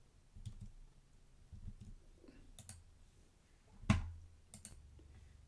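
Computer mouse clicks on a software button, a few sharp isolated clicks spaced apart against a quiet background, one louder click near the end, with faint low thumps between.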